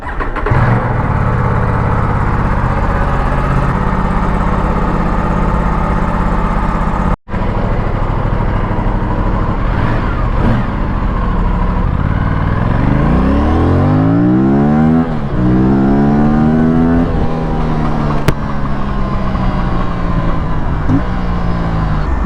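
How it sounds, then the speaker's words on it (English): A 2025 Aprilia RS457 motorcycle starts and settles into a steady idle, then the engine rises and falls through several rising revs, loud and close with a brief cutout partway through. "Let me quickly turn on the bike and we will take it out for a short spin"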